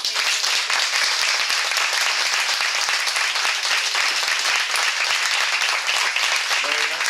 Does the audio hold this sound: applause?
yes